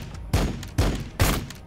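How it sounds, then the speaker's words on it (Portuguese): Soldiers fire their weapons in the video game Warhammer 40k Battlesector, with three sharp, evenly spaced bursts of gunfire, close and punchy, and a faint background bed between them. "Vou dar uns tiros aqui"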